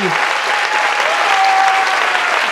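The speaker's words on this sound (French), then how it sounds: "On peut vous applaudir bien fort." A studio audience gives loud, dense applause for departing guests, an even, sustained roar of clapping without pause.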